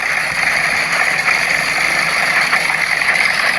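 Engine of a car built on a 1912 chassis, shown at the Beaulieu International Autojumble, runs at a steady rumbling idle, close and loud, with no voices over it.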